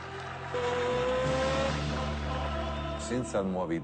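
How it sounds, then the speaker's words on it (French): A Ducati motorcycle engine revs and holds a high, throaty note, its pitch rising and falling, with a burst of higher revving near the end. "les fans de moto reconnaissent le son typique d'un moteur Ducati."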